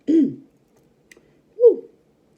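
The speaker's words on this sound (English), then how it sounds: "Clear my throat" A person clears their throat twice, close and fairly loud, with a short pause between the two gravelly bursts.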